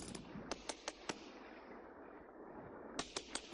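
Sperm whale clicks recorded underwater, a series of sharp, evenly spaced clicks in two bursts separated by a short lull, the last one slightly stronger, over a faint hiss.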